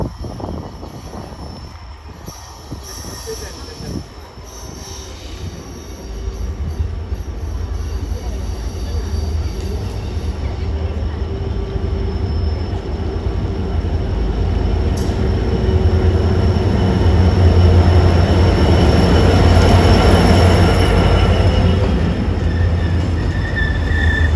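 The Yal Devi train on the Jaffna–Colombo line arrives, a loud rumble of rolling wheels that builds steadily with squealing and clatter, and brief talk near the start.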